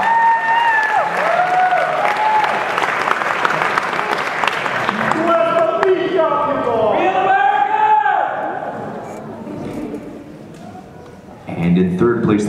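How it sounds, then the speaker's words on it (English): Applause and crowd noise for a competitor walking on stage at an NPC women's physique bodybuilding contest, loud and sustained for about eight seconds before easing off, with an announcer's voice over it and brief cheers at the end. "Please welcome and give a round of applause to competitor number one, Jessica Potter."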